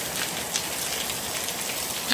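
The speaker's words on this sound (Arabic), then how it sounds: "خليكم مع هذا الصوت الأمطار الرائع" Steady rain falls and patters on surfaces outdoors under a cloudy sky, forming an even, continuous hiss of moderate loudness with a few slightly louder drop impacts and no voices.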